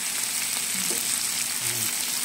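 Milkfish (bangus) fries with other ingredients in a pan for sisig, a steady hissing sizzle close by, with a few faint stirring sounds and no speech.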